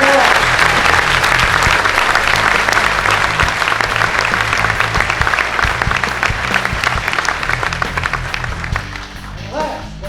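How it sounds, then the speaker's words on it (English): An audience at a Ranger graduation ceremony claps loudly and steadily for about ten seconds, a dense, sustained round of applause that tapers slightly at the end. "Ladies and gentlemen, let's give them a round of applause."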